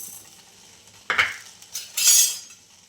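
A utensil clinks and scrapes against a pan while grated raw mango and sugar are stirred together, giving a few sharp metallic knocks and a brighter scraping rasp over quiet background.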